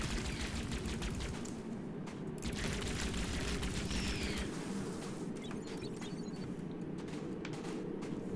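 A plasma gun fires in FortressCraft Evolved as a rapid, continuous stream of sharp shots crackling at a steady pace. The firing is fairly quiet and is joined by a low background rumble.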